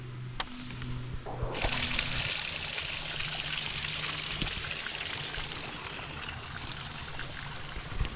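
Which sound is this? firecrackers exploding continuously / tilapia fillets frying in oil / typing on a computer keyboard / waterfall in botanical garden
waterfall in botanical garden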